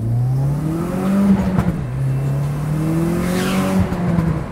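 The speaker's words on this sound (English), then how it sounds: "So I took it out for a test drive, which went about as well as I was expecting." An Audi S3 on a test drive gives a steady engine whir with a rising and falling squeal, sounding close and continuous from start to end.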